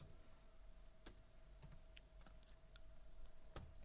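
Keys tapped on a computer keyboard while entering a command at a Personal Oracle 8 prompt: sparse, light clicks spread out one at a time, faint over a steady background hum.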